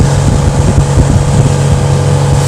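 Sea Ray Sundancer 265 motorboat cruising at speed through a gentle turn, its engine a loud, steady low drone mixed with rushing water and wind buffeting the microphone.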